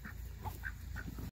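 Farm ducks quacking in short, separate bursts while they eat at feeding time, over a steady low background rumble, fairly close and moderately loud.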